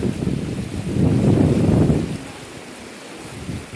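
A river where people are bathing gives a broad, steady rush of flowing water mixed with wind buffeting the microphone, swelling briefly before settling, with no talk.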